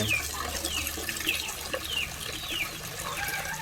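Water is scooped and poured in a fighter fish tank during a tank change: a continuous trickling, splashing flow runs throughout, with faint high chirps on top.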